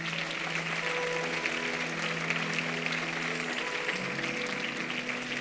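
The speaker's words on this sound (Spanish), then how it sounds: "Dale un aplauso fuerte." A church congregation applauds loudly, a dense, sustained clapping that stays at an even level, with a low held tone running underneath.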